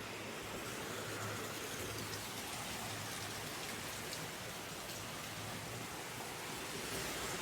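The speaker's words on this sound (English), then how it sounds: "You can hear it still raining a little bit." Light rain falls outside an abandoned factory, a steady soft hiss of drops on surfaces, continuous and fairly faint with no voices.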